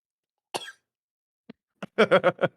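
Several dry coughs ring out, first one alone, then a quick cluster of harsh coughs close to the listener, with silence between.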